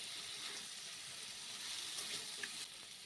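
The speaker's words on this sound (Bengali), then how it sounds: "এবার মশলার সঙ্গে কাঁকড়াগুলো একটু ভালো করে কষিয়ে নেব।" Crabs sizzling in hot oil and spice paste in a pan, a steady close frying hiss with faint stirring scrapes and small pops, no voices.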